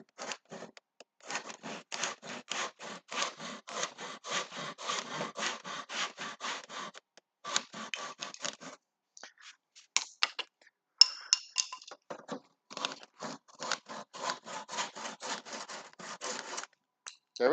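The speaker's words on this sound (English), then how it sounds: "Upside down sawing." A hand saw cuts through wood held upside down at a distillery, rasping in fast, steady back-and-forth strokes close by, with a short pause midway before the sawing resumes.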